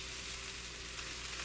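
A soy nugget, vegetable and peanut stir fry sizzles steadily in a hot pan as it is stirred, a close, continuous hiss of frying with faint scraping underneath and no talking.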